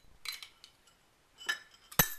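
Ten copper pennies clink against a glass container in a lab, a few scattered light taps early on, then a couple of sharper, louder clinks near the end, close and with no talking.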